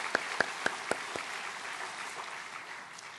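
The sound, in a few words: church congregation applause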